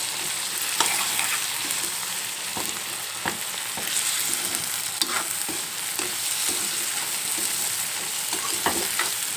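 Chana dal stirred in a frying pan, a dry scraping rhythm of spoon strokes against the pan over a steady sizzle of frying, close and moderately loud throughout.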